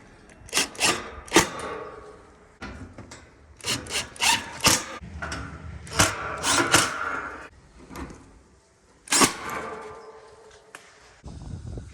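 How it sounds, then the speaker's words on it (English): Screws being driven into an air conditioner unit during a repair, a series of close, sharp scraping and grinding bursts separated by brief pauses. "Put in our screws."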